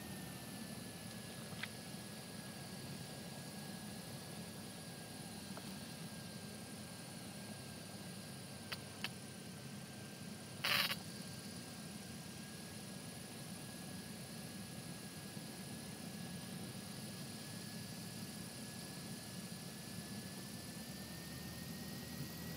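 An aircraft taxiing at Thunder Bay airport, its engine holding a low, steady drone and a faint whine throughout, with a brief click or rattle near the middle.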